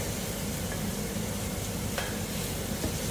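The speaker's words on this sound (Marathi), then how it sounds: "आता आपण त्याच्यात टाकूया उकडलेले बटाटे." Boiled potatoes tipped into a pan of roasted coriander and cumin and stirred, giving a steady low sizzle with soft scraping and stirring throughout, close and continuous.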